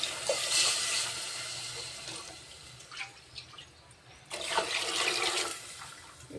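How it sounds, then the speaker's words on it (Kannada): Water pours and splashes into a pot of boiling sambar, a loud rushing gush at the start, a quieter bubbling lull, then a second strong pour near the end. "ಈಗ ಉಳಿದ ನೀರು ಅಷ್ಟು ಹಾಕ್ಬಿಡಂಬ್ರಿ ಇದಕ್ಕೆ"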